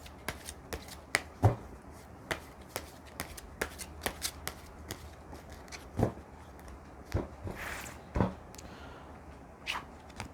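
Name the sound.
shuffling oracle cards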